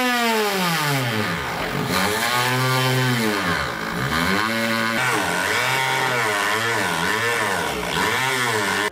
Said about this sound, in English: if you have a Dremel, that's gonna be the best tool. We're gonna go ahead and cut this out now.